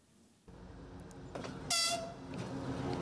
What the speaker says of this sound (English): A train said to be carrying Russian military vehicles arrives in Belarus